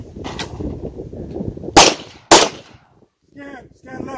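Two loud, sharp handgun shots ring out about half a second apart during a concealed-carry shooting range drill, following an instructor's voice, then near-silence and more talk.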